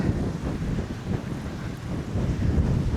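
Strong, steady wind buffets the microphone beside Lochindorb loch, a continuous low roar with gusty swells and a faint wash of water beneath it.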